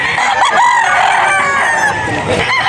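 A golden boy gamefowl rooster crowing close and loud at a gamefowl gathering in Bocaue, Bulacan, one strained, drawn-out call with harsh harmonic tones over a short burst.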